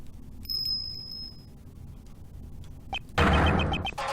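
A single clear bell in the video game Ace Attorney Investigations 2 rings out with a lingering tone, followed moments later by a sudden loud burst of noise.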